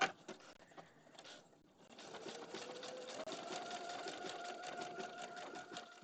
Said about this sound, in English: Once everything is in position, I'm ready to go and I just start stitching.